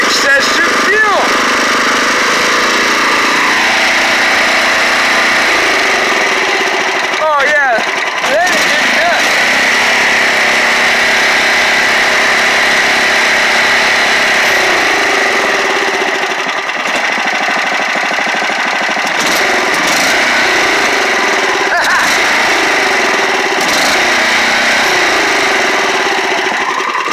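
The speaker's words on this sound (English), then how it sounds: "You hear a backfire, that's still excessive fuel." Small engine wound up and running rich with excess fuel, a steady loud buzzing drone with pitch shifts and a few sharp popping backfires, close up, with someone talking over it.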